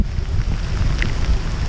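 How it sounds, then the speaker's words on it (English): Strong gusts from Hurricane Elsa roar steadily through trees, a dense low rumbling wind with buffeting against the microphone, with no voices. "a lot of wind, as you can see in some of these trees."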